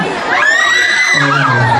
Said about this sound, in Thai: ขอบคุณครับที่กรี๊ดให้